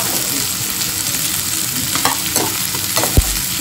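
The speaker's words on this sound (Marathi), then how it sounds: "तर कांदा पूर्ण फ्राय करून घेऊया आपण" Onion fries in a pan with a loud, continuous sizzle, broken by a few light scrapes of stirring and a soft knock near the end.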